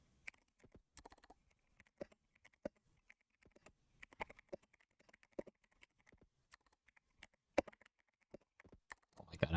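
Keystrokes on a Daring Run DR-70F mechanical keyboard, tapped in irregular bursts of sharp, close clicks and clacks with brief pauses, a louder clatter at the end.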